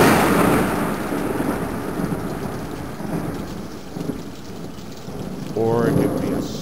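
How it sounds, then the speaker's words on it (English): Heavy rain and a thunderstorm wash through in a dense, continuous roar with rolling thunder swells, and a voice cuts in briefly near the end. "it could be a stormy night with thunder and lightning"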